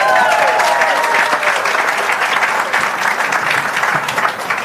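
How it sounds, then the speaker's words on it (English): Loud, close audience applause at a talk honoring a science educator, many hands clapping in a dense, continuous burst with a brief cheer or whistle at the start, easing off slightly toward the end. "Give him a round of applause."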